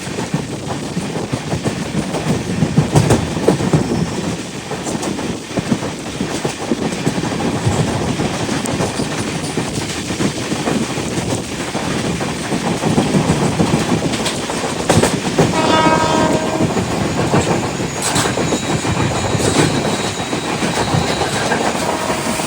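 The Rishikesh–Trivandrum North SF Express runs along the Konkan Railway in monsoon with a steady loud rumble and clatter of wheels on rails throughout, a faint horn or squeal rising briefly near the end.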